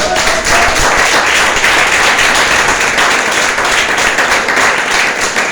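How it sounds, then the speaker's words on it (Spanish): Church congregation applauding during a Spanish-language sermon, a dense, steady wash of clapping that stays loud and close throughout, with no talk over it. "¿Y por qué no le dan un aplauso?"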